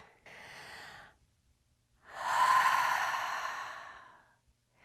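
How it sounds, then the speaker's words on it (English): Slow, calm breathing during a seated meditation, heard alone in a quiet room: a soft breath of about a second, a pause, then a longer, louder exhale lasting roughly two and a half seconds, like a sigh. "And you breathe in and you breathe out."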